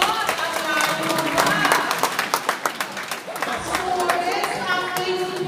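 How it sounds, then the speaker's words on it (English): Lively applause and cheering fill a room at a Filipino Portuguese community Christmas party, dense clapping mixed with crowd chatter and voices, loud and sustained throughout. "Let's give them a big round of applause!"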